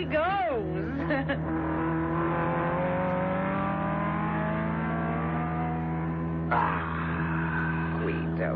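A race car's engine roars steadily and close as it passes another car on a racetrack, the pitch rising and falling through the gears with a sharp rev near the end.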